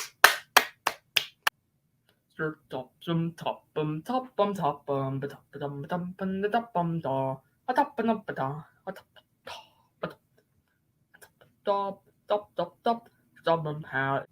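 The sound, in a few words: round of applause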